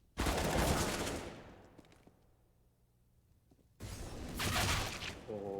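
Bursts of rapid gunfire from a competitive CS:GO match crackle loud and close in two dense volleys separated by a quieter gap.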